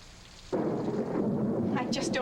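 A sudden heavy wash of rain with a low rolling thunder rumble sets in after a quiet start, loud and close, with brief high chirpy sounds near the end.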